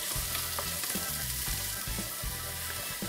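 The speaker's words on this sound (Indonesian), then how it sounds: "Kita aduk lagi." Spicy, sour patin fish curry base being stirred in a pan, a soft steady sizzle with rhythmic scraping strokes of a spoon every half second or so.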